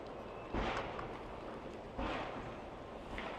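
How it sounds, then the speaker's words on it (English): Two heavy, muffled booms land a little over a second apart, distant and low, from a dump truck banging out dirt, against a steady outdoor rumble. "Sounds like gunshots going off, but it's a dump truck."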